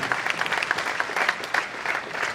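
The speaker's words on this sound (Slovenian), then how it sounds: "dajmo še en aplavz za Ajšo" An indoor audience at a welcome reception in Slovenske Konjice breaks into dense, steady applause, many hands clapping together at close range without a break.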